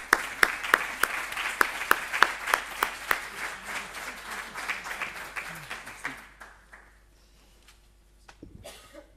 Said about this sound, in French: je vous invite à me rejoindre, à l'applaudir